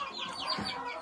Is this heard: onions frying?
no